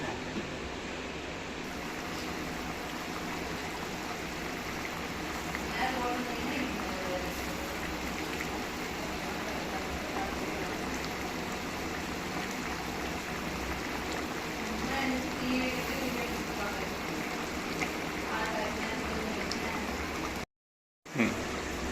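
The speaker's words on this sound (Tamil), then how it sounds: "இப்போ பாருங்க குழம்பு நல்லா கொதிச்சு வந்துச்சுக்காரு" A pot of dried-fish curry bubbles at a steady simmer, a continuous watery rumble lasting throughout, briefly cut out near the end.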